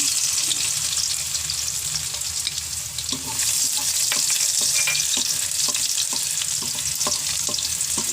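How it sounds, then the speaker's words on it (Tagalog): Garlic sautéing in a pan for Batangas lomi, with a steady loud sizzle of frying punctuated by repeated clicks and scrapes of stirring throughout. "Magigisa na tayo guys. Unahin na natin yung ating bawang"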